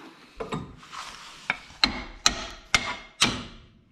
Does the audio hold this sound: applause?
no